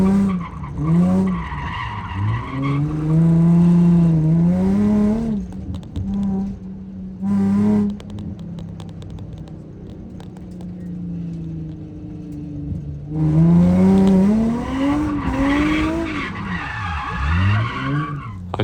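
A race car skids through a corner at Spirit Peaks Raceway with loud, sustained tire squeal that rises and falls in long wavering screeches, cuts off briefly, then returns strongly, close and with no talk.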